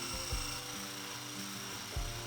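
A Smeg HBF02/HBF03 hand blender fitted with its stainless steel wire whisk attachment whirs with a steady high motor whine, and its pitch dips briefly a couple of times as the whisk works.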